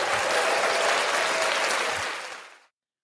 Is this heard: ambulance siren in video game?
no